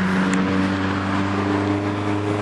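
A car on a road cruises past close by, its engine humming steadily and fairly loud with a constant tonal drone throughout, no voices over it.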